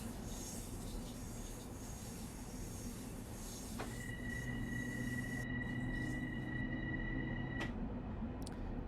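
A simulated commuter train in Train Sim World 2 on the Harlem line to North White Plains powers up a grade, with a constant low rumble of motors and wheels and a long high wheel squeal ringing through the middle.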